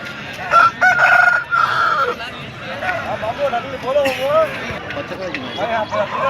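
A rooster crows and clucks close by at a Sunday hen market in Pileru, with people talking over the bird and a busy background.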